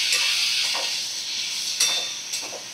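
A pan of vegetable curry with potato, chickpeas and pumpkin fries with a steady, fairly loud sizzling hiss and brief stirring scrapes.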